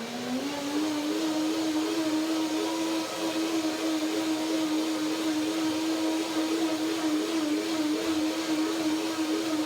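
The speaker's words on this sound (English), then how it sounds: "So one more blender in to finalize the dressing." A countertop blender whirs steadily, blending a lemon cashew banana cream dressing, one loud continuous drone that settles at a constant pitch after a brief spin-up and runs alone without any talk.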